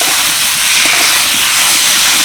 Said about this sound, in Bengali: ঝিঙেগুলো দেওয়ার পর 30 সেকেন্ড মতো নাড়াচাড়া করে নিচ্ছি।